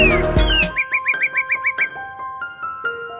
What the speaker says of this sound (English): The northern cardinal is the state bird of Illinois, Indiana, Kentucky, North Carolina, Ohio, and West Virginia.